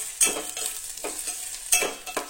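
Chopped onion sautés and sizzles in oil in a pan for Malvani kulith pithi, with close scraping stir strokes at a steady pace over the frying hiss.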